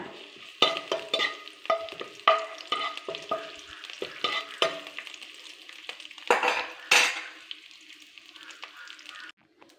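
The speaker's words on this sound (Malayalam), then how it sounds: "കറിവേപ്പില ഇട്ട് വറുത്ത് കോരിയെടുക്കണം" Curry leaves fry in hot sesame oil for a mango dish, a close sputtering sizzle broken by repeated scrapes and clinks of a spoon stirring in the pan.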